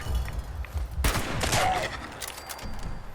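Gunfire in the video game Fallout 76: a sharp loud shot cracks out about a second in, followed by ringing reverberant echoes and softer trailing noise.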